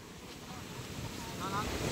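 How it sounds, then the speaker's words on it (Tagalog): Sea waves washing at a fish port in Tanza, Cavite, a steady broadband roar with heavy wind buffeting the microphone, building slightly louder toward the end. "Lalaki na alon"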